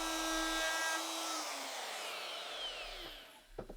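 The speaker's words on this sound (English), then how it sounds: "I can just use a router with a flush trim bit" A router with a flush trim bit whines steadily at a high pitch, its pitch sliding and fading, with a couple of sharp knocks near the end.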